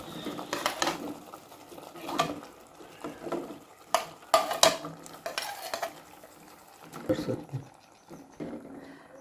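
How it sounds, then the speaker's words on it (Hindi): Pumpkin pieces stirred with cooked spices in a pan for a homemade kaddu sabzi, giving scattered scraping and clinking utensil knocks at an uneven pace, with someone talking over them. "ये देखें, इस तरीके से अब इन सब चीज़ों को अच्छी तरीके से मिक्स कर लेती हूँ"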